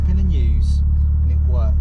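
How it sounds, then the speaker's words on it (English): MFI-tuned Ford Escort RS Turbo Series 1 engine idling at around 900 RPM, a steady low rumble beneath someone talking. "We're sitting at like 900 RPMs idling in an MFI tuned RS turbo."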